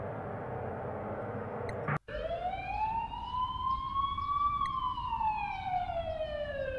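An ambulance siren in the game The Coma: Recut rises and falls in a steady wail, loud and close, with faint road noise beneath it after a brief break.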